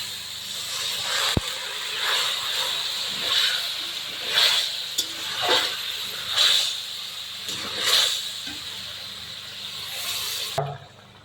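Spiced masala for rohu fish curry sizzles and hisses steadily as water is poured in, the loud frying swelling in repeated bursts with stirring before cutting off near the end.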